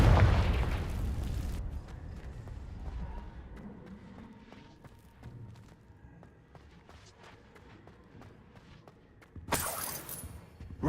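Confringo blasting spell going off in Hogwarts Legacy, a loud burst that fades into a rumbling decay, with smaller crackles and footsteps after it and a second blast near the end.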